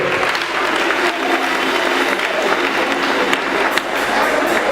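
A church congregation applauds and cheers during a worship service, a steady dense wash of clapping from a crowd that holds at full strength throughout with no pauses.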